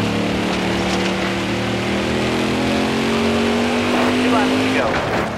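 Race cars roar around the track during a race, loud sustained engine drone with one car's pitch holding steady then dropping as it passes close by near the end.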